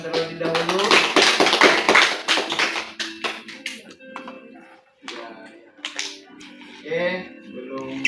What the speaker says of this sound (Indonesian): sebelum mereka berikan tepuk tangan terlebih dahulu